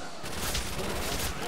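A Thompson submachine gun fires in a zombies mode shooter game, a brief dense rattle of rapid shots, loud and close, with players' voices mixed in.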